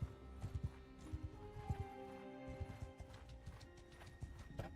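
In the video game Bannerlord, horses gallop with a quick, irregular clip-clop of hooves at moderate distance, and there are faint snorts and whinnies.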